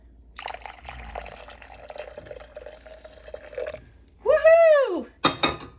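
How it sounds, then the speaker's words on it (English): Water pours steadily into a DIY body lotion mixture for about three seconds, moderately close. A rising-and-falling vocal exclamation follows, then a short clatter. "so I'm just going to start pouring the water in"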